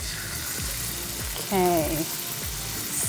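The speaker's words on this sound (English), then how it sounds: "sizzle, just what we want." Pork browning in a hot pan for a Filipino dish gives a steady, close sizzle with occasional stirring scrapes, and a voice speaks briefly over it.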